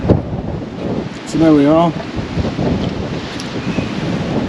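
Wind blows hard across the microphone by the bay at Bank Farm on the Gower, a constant loud rumbling buffet, with someone speaking briefly over it.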